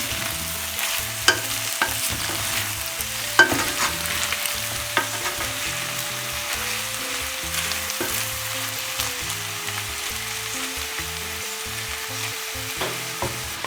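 Steady sizzling and frying of mushrooms in a hot pan, with occasional clinks and stirring scrapes, continuous and close with no talking.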